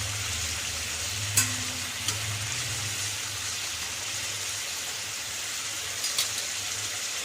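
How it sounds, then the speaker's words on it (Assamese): Goat meat curry simmers in a pot after water is added, making a constant soft hiss and bubbling with a few faint clicks and no talk. "এনেদৰে অলপ দেৰি উতলিবলৈ দিম।"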